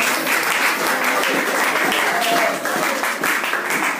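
A church congregation applauds at a consecration ceremony, a dense, loud, sustained wash of clapping from many hands filling the room while voices call out over it.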